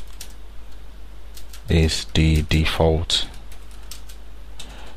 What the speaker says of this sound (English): So now you see we can start typing.